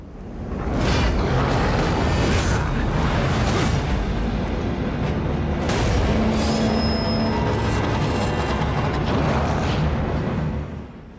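A train rumbles along steadily in Castlevania: Lords of Shadow 2, a continuous loud roar of rolling wagons and wheels with metallic squeals and rattles throughout, and no talking over it.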